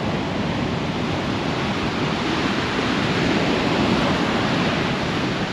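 Ocean surf washes continuously on the shore where sea meets land, a loud, dense roar of breaking waves with no talking over it.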